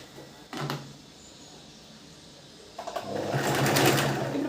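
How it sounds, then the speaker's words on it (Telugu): Sewing machine stitching blouse fabric while the lower cloth is stretched, a short burst early on followed by a longer, louder run of rapid needle clatter close by. "కింద క్లాత్ని కొంచెం సాగదీస్తూ కుట్టేసేయండి"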